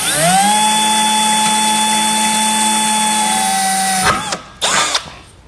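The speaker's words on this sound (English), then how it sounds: "I'm going to drill a pilot hole." A power drill bores a small pilot hole while a winch is being fitted to a 2020 Honda Pioneer 1000-5, whining loudly and steadily at close range for about four seconds, then stopping and briefly restarting in short bursts.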